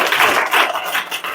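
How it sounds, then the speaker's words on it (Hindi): A school prize ceremony on Republic Day erupts in dense, steady applause from the audience welcoming the chief guest, a brief burst of many hands clapping at once. "उनके लिए एक बार जोरदार ताली से स्वागत कीजिए।"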